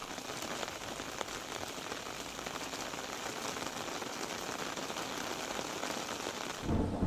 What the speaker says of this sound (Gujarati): તલાલા શહેરમાં વરસાદી માહોલ જોવા મળ્યો।